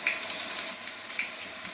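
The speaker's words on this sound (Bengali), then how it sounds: "এটা লাউয়ের চিংড়িটা হচ্ছে, ভাজা হচ্ছে" Prawns for a gourd curry sizzle and crackle in a hot pan, a steady close frying hiss with small pops and no voices.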